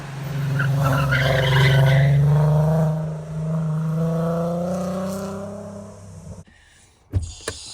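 A modified 2003 Volkswagen Golf R32 with its VR6 engine revs up close and loud, its throaty note climbing and holding for several seconds before it drops away, followed by a couple of sharp knocks.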